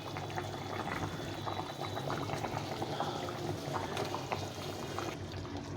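A thin katla fish curry broth with potatoes bubbles at a rolling boil in a pot, a continuous churning gurgle with small pops, close and fairly quiet, without talk.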